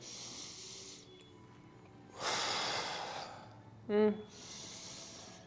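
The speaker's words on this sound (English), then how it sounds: "And then you're going to exhale, ribcage down." A person exhales audibly during a weighted ab and mobility exercise, with several soft, breathy huffs of air close to the microphone and a brief throaty sound in between.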